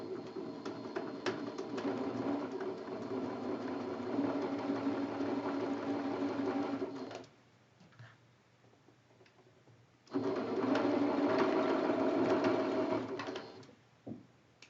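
A sewing machine chain-pieces quilt block pieces in two long steady runs of close mechanical whirring, separated by a pause of a few seconds, then a short final burst.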